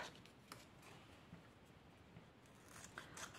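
Scissors cut out a paper owl in quiet, faint snips and light paper rustles, close but soft, spread irregularly through a low background hiss.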